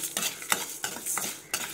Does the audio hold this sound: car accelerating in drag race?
no